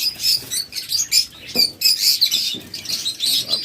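Budgerigar love birds chirping in a cage, a dense stream of high twittering calls from several birds close by, with light fluttering and scratching beneath and no voices.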